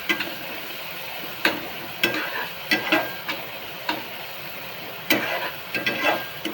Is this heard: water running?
no